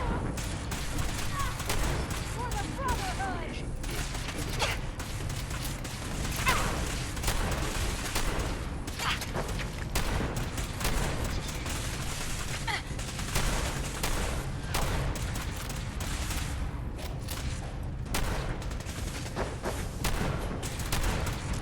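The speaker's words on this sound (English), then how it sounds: "Guys, they're shooting." Sustained, dense gunfire from enemies in Fallout 4, with overlapping shots and rapid bursts that run loud and almost unbroken, and voices come in at times over the shooting.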